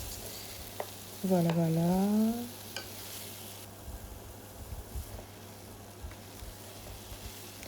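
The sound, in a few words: two cut carrots added and stirred into veal stew pot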